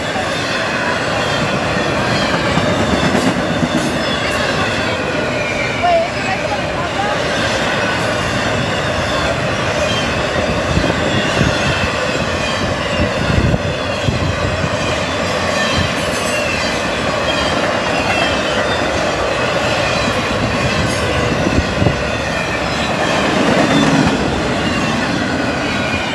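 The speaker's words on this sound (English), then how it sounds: "fast intermodal to Savannah" A fast intermodal freight train bound for Savannah roars past in Folkston, Georgia, with steady loud rumble and rhythmic clickety-clack of wheels over rail joints, occasional wheel squeal, sustained throughout at close range.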